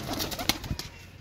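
A pigeon being handled gives a short series of soft wing flutters and rustles, close and fairly quiet, with brief sharp taps among them.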